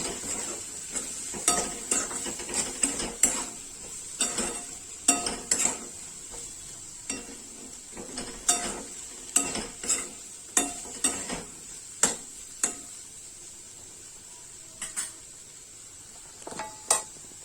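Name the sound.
stir-frying masale bhat rice in a pan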